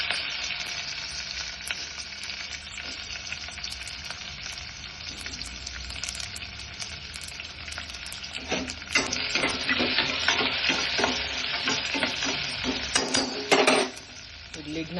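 Onions sizzling in hot oil with curry leaves in a pan, a steady frying hiss that swells as a spoon scrapes and stirs in repeated strokes, then eases off near the end.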